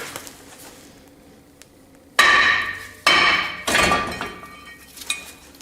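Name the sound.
whacking brake rotor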